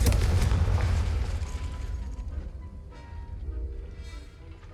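A Confringo fire spell explodes in the video game Hogwarts Legacy. A loud, deep blast hits at once, then fades into a long rumbling tail over several seconds, with no voices.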